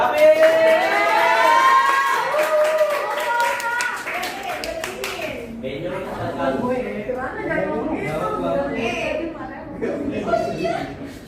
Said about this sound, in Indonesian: Tepuk tangan buat David.